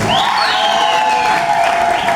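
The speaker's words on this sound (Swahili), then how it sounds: "Piga makofi kwa ajili ya baba askofu" Audience applause and cheering for a bishop at a church gathering promoting the KKKT Marathon, a continuous wash of clapping and raised voices through the whole stretch.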